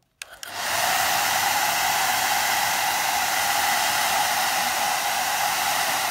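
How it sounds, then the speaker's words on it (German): A handheld hair dryer blows over a freshly painted sheet of paper during a children's painting and collage session. After a brief click it gives a loud, steady, even whoosh that holds unbroken to the end. "Ich kann diesen Prozess mit dem Föhn beschleunigen."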